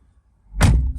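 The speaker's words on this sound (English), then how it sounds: "Close the door." A Ram 3500 pickup door swings shut with a single solid, heavy thunk near the end, close by, after a moment of near silence.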